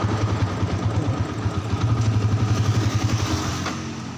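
A Yamaha Vixion motorcycle engine runs up close without a battery fitted, making a loud, steady idle with a rapid, even pulsing putter and light mechanical clatter, slightly easing off at the end.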